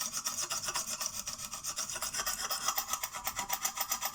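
A knife blade rasps rapidly back and forth on a Lansky sharpening stone as the burr is worked across, a steady, even rhythm of close, gritty strokes.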